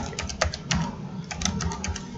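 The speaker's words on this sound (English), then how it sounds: "So I'll just type mail dot" Keystrokes on a computer keyboard while entering mail server settings, a steady run of light clicks in irregular rhythm, close and moderately loud, with no talk.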